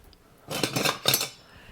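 Salt being stirred into shredded cabbage for sauerkraut: a metal utensil scrapes and clinks against a bowl in two short, close bursts, with quiet before and after.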